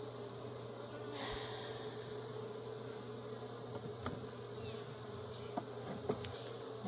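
Honey bees drone in a continuous, fairly close buzz around an opened hive, with a few sharper faint sounds over a steady hum.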